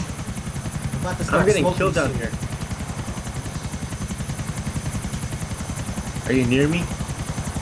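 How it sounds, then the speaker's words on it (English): A slow, machine-gun-armed helicopter in the video game GTA IV gives off a steady rhythmic rotor chop throughout, while a player talks over it in two bursts. "This helicopter is like a tank. It's slow."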